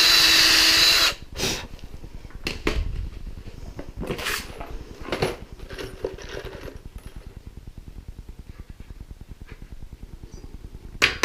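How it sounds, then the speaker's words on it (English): A power drill bores into a wooden gate frame, a brief high whine up front, followed by several short bursts and knocks and a quieter rhythmic ticking, close by with no talk. "Drill and pray that it doesn't split."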